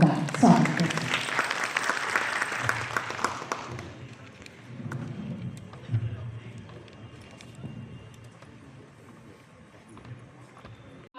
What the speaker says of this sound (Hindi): इस ओपन मंच में हम सभी जोरदार तालियों से उनका स्वागत करते हैं